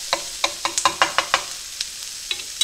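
Peppers and onions tossed and stirred in a pan, a run of sharp, evenly spaced scraping knocks over a faint sizzle, close and fairly loud with no talking.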